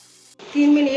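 Chopped tomato, spring onion and green chili fry in a pan with a steady, close sizzle that starts abruptly after a brief quiet moment and holds for the rest of the second.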